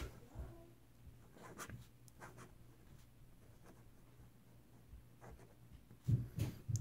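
A Jinhao 599 fountain pen nib scratches across paper in short, quiet strokes with faint pauses between them, heard up close and alone.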